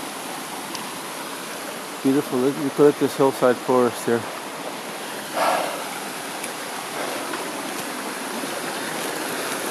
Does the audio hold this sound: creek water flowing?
yes